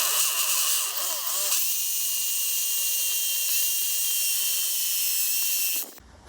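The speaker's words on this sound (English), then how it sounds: "I'm gonna have to drill some holes in it to take some fur fix." A drill boring holes in a concrete post, a loud high-pitched whine that sustains steadily for several seconds and then stops abruptly.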